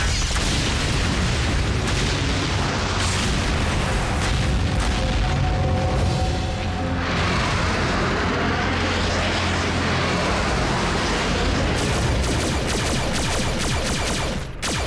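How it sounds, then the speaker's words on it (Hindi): Cartoon gas station explosion in Transformers Prime, a dense, sustained roaring blast with rumbling debris and crackling, loud and continuous for the whole stretch with no voices. "उस जगह को उसके बॉम्ब ने नहीं, तुमने उड़ाया। उसे गैस स्टेशन कहते हैं"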